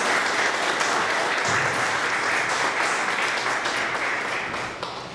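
A church congregation at a wedding claps together in steady, sustained applause that fills the room at a fairly even level and then tapers slightly at the end.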